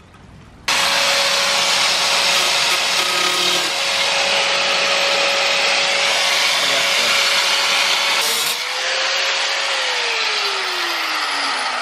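A power saw blade cuts steadily along a taped line on a metal car fender, a loud continuous whining roar close up that drops briefly and then resumes with a falling pitch.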